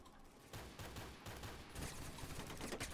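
Gunfire from an AK-47 in the video game Phantom Forces, heard as a dense run of sharp, loud shots and bursts filling the whole stretch, with no talking over it.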